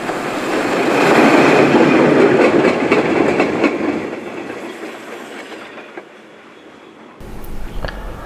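A Talyllyn Railway train running through the valley toward Tywyn, a loud broadband rumble of wheels and carriage noise that builds, holds, then fades away, followed by a quieter shift in background.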